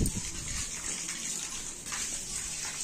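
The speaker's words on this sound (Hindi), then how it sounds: "पता नहीं किसने चलाया तो टैंक भर रहा" A household water tank fills from a running supply, a loud, steady rushing and gushing of water that continues unbroken throughout.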